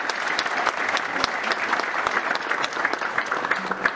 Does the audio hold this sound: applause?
yes